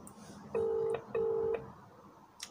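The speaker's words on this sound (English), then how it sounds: "Finally, it's ringing." A phone call's ringback tone sounds as two steady beeps, each about half a second long, with a short gap between them. The tone is moderately loud over a faint room hiss, and nobody speaks.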